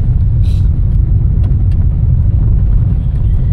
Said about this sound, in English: we are driving down, you see that, that's a dust, dirt road